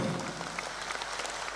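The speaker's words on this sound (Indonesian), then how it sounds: "Tepuk tangan untuk rakor ini" Scattered applause from the audience at a government coordination meeting, fairly faint and distant, lasting only a moment.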